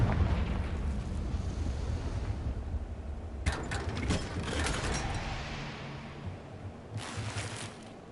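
Fiery Confringo spell blast from the Hogwarts Legacy video game, a loud crackling burst with rumbling, gear-like mechanical texture over a steady roar, followed by a second softer flare near the end.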